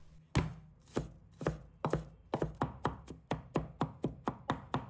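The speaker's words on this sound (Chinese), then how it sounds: "再准备几个大蒜，把它切成末。" A knife mincing garlic on a cutting board: a run of about fifteen crisp, close chops, spaced at first and then settling into a quick, even rhythm.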